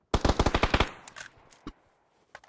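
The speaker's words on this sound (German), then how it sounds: "Hör auf zu schießen, ich krieg sonst ein Herzinfarkt." Gunfire in the video game PUBG: a rapid automatic burst of about eight close, loud shots, followed by a few scattered single shots and fading echoes.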